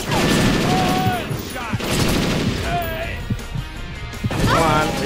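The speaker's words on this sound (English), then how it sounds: "Tango is shooting." Gunfire in Perfect Dark Zero, a video game: loud bursts of shots and crashing impacts fill five seconds, mixed with in-game shouting and radio-style voices.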